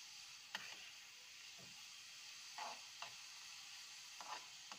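Carrots and capsicum cook in a pan for Indian-style veggie pasta, giving a steady, soft sizzle with a few light stirring scrapes and clicks scattered through. No one speaks.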